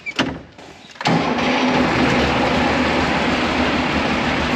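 A John Deere tractor engine, test fired after a repair, cranks briefly and then catches, settling into a loud, steady running rumble close by.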